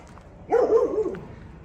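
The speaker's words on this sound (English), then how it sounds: "You can hear the dog barking in the background." A single dog barks a short, drawn-out bark at moderate distance, rising out of a quiet background and then fading.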